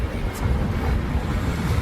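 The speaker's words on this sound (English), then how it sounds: "right now it's super windy" Strong wind buffets the microphone with a steady, heavy low rumble and roar that never lets up.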